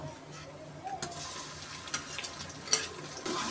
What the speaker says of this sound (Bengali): এখন একটু নেড়ে দেবো। মশলাগুলো সুন্দর করে কষিয়ে নিলাম।